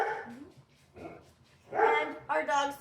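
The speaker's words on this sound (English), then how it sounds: "our dog Survivor is protecting us from the neighbors who decided to walk outside." A family dog named Survivor barks protectively at neighbors walking outside, a few sharp barks building louder toward the end, close by and indoors, with some voice mixed in.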